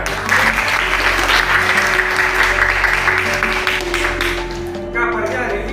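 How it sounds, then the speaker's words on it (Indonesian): Schoolchildren in a classroom applaud together in loud, steady clapping. It tapers near the end, and a low hum runs underneath. "Luar biasa. Tepuk tangan."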